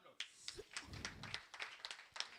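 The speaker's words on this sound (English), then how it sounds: "Now, please, a round of applause." Scattered claps from an audience at a book presentation, faint and irregular, with a few sharp hand claps standing out among softer ones and a low murmur underneath.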